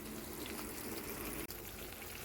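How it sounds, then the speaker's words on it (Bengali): Hot water pours into a simmering dhokar dalna curry of spiced potatoes and lentil cakes, a soft continuous rushing splash with one brief break partway. "এর মধ্যে গরম জল দিয়ে দিলাম।"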